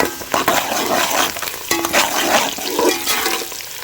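Onions and spices frying in a pan for aloo methi, a steady close sizzle with stirring scrapes and occasional clinks, no talk over it.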